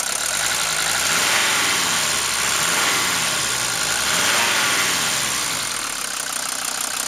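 Mercedes-Benz diesel engine idling with freshly adjusted valves, a steady close clattering rumble with a slight pulsing rhythm, no voices.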